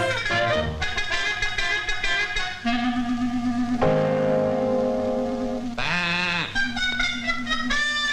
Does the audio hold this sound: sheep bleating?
yes